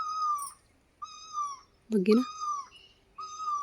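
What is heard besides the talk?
bird calling "koo koo" from a tree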